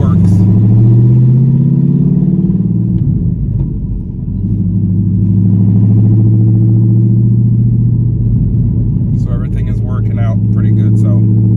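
A car engine on a two-step launch limiter holds a loud, close, steady rumbling drone, dipping briefly and then holding again, while a voice talks over it near the end.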